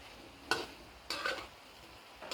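Pork skin for Thai crackling frying in its own rendered oil as the water cooks off, with soft bubbling under two or three louder stirring scrapes spaced about half a second apart.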